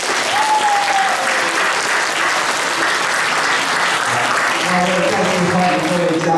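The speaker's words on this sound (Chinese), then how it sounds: "我们给廖老师一个热烈的掌声" Warm, sustained applause from an audience at the opening ceremony of a calligraphy retrospective exhibition in a national memorial hall gallery. The clapping fills the whole span at steady loudness, with a voice briefly audible over it near the end.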